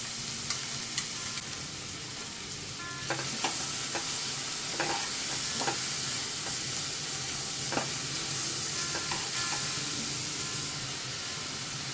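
Onion fries in oil with asafoetida, turmeric and salt for stuffed brinjal, a steady bright sizzle and hiss with scattered clicks and scrapes of stirring, close and unaccompanied by talk.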